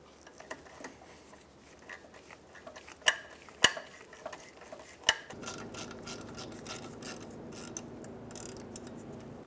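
Ratchet wrench tightening 12 mm bolts on an engine torque strut mount bracket of a 2007-2015 Mazda CX-9: quiet clicking, a few sharp metallic knocks, then a steady fast ratcheting rattle, close up with no speech.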